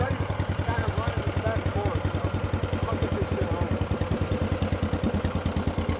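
A Massey Harris tractor's small four-cylinder flathead engine idles close by, a steady, even chugging beat that runs the whole time, with faint voices over it.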